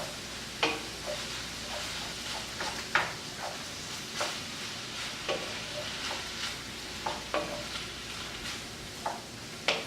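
Empanada filling is stirred in a frying pan under a low sizzle, with a spoon scraping and clacking in soft, irregular strokes, heard close and without talk.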